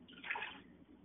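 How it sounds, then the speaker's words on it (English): Half a cup of water poured into an Instant Pot over frozen chicken breast strips, a short soft splash and trickle lasting under a second, faint and close with no talk. "I'm going to add a half cup of water"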